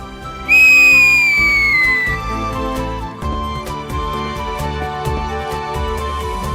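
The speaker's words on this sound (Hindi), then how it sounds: "देखो सीटी ऐसे मारते हैं।" A person whistles one loud, sustained note that slides slightly downward, followed by lively background music and ambient room sound.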